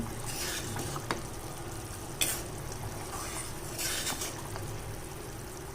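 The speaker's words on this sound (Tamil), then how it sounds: "குழம்பு நல்லா கொதிச்சிட்ருக்கு" A pot of paarai fish curry simmers and bubbles on the stove, giving a soft, steady sizzling burble with a few sharper pops and clinks, close by and fairly quiet, with no voices.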